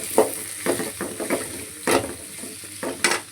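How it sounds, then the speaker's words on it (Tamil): Onions and tomatoes sautéing in a pan for an urundai kuzhambu, with a soft steady sizzle broken by several close scraping stirs at irregular intervals, no voices. "இப்போ வெங்காயம் தக்காளி எல்லாம் போட்டுக்கலாம் ஃப்ரெண்ட்ஸ்"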